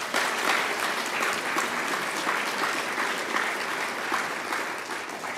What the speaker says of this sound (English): Let's give them all a round of applause, ladies and gentlemen.